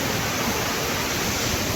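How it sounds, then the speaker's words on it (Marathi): Waterfall at Tahuli near Ambernath, a steady broadband roar of falling water that fills the clip evenly and loudly, close by, with no pauses or voices. "धबधबा मस्त एकदम बघण्यासारखा धबधबा आहे"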